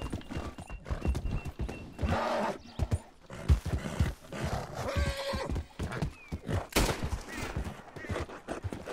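Horse hooves clip-clopping with whinnies and neighs in Red Dead Redemption 2, mixed with game effects and a burst of gunfire-like sounds, moderately loud and busy throughout.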